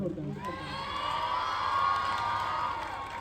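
A crowd at a local gathering cheers and whoops together, a swelling burst of shouting voices that rises and holds for a few seconds, with some clapping and speech mixed in.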